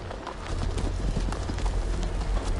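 Horses' hooves clip-clop in steady unison in a Game of Thrones video game, a close, rhythmic trot with low rumble beneath and no talk.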